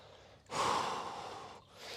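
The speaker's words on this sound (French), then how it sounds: "Allez, je veux t'entendre souffler comme moi. Souffle bien." A strong, forceful exhalation during a workout exercise, one loud breath out that fades, followed by a softer start of another breath, close to the microphone with no talk.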